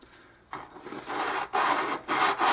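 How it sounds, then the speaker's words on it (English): Sanding the soundhole edge of an acoustic guitar with 120 grit sandpaper: close, raspy rubbing strokes, about four in a row, each a loud scratchy swipe separated by short pauses, with no talking. "This is 120 sandpaper, and I'm gonna go around this thing and smooth it down."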